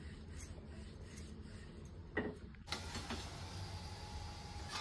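A rolling pin flattens sweet jaggery-sesame dough for kapnya on a board with close rubbing and creaking strokes. Partway through, a brighter, steady hiss joins in.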